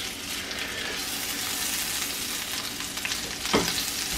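Onions and garlic fry in a pan with a steady, close sizzle and hiss that holds throughout, with a brief utensil scrape or stir near the end.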